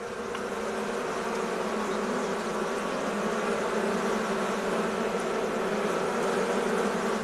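A swarm of Armenian yellow honey bees buzzes in a dense, continuous drone. The sound is steady and moderately loud throughout, with no voices.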